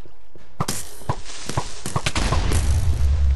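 A Minecraft explosion in a cave: a series of sharp, close bangs builds into a heavy, loud rumbling boom toward the end.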